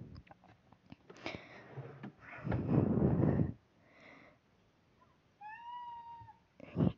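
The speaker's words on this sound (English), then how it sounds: "If you hear my cat meowing, don't mind her." A pet cat meows nearby in a quiet room, a few short rising calls, with some rustling and light handling noises around them.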